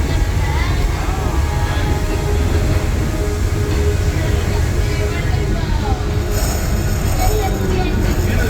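Magic Kingdom railroad locomotive rolling along the track, a steady rumbling ride noise with rail clatter, heard over a continuous spoken narration.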